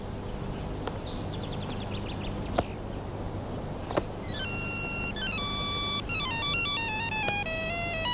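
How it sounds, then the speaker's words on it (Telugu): An incoming call sets off a phone ringtone, a bright electronic melody of stepped tones that repeats through the second half over a steady background hiss, with no one talking. "ఫోన్ ఏదో వచ్చింది, ఎవరో కనుక్కో."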